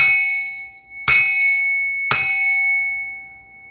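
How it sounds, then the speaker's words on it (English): A bell is struck three times in steady succession, each hit a sharp metallic clang followed by a long ringing tone that decays slowly, close and clear with no talking. "I'm going to bang this bell."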